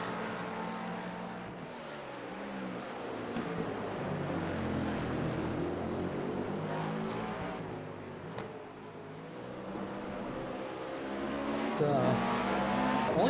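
Race car engines in the iRacing simulator roar continuously, with pitches rising and falling as cars pass and shift, under a commentator's talk in a live broadcast.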